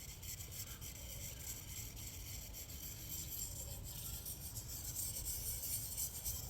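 A sharpener rubs against a Scandinavian-grind knife blade in small circles from heel to point, producing a continuous, faint gritty scraping that holds steady throughout.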